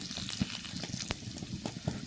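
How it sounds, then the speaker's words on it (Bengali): Cumin and bay leaves frying in a pan for a mutton curry, a soft, continuous sizzle with faint crackles and occasional clicks, no talking. "একটু সময় ভেজে নেব।"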